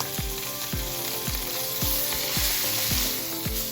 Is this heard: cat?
no